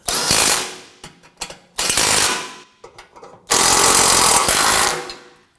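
A ratchet snugs down the AC condenser bracket bolts on a 2003-2014 Volvo XC90 3.2L, in close, loud rapid clicking bursts separated by short pauses, the last burst the longest.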